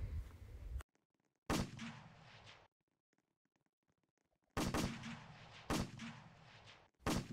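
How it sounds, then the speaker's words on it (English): Guns firing in a Roblox Squid Game round, sharp loud reports in separate clusters: one shot, a burst, a long near-silent pause, then several more close, booming shots. "Those guns are very loud."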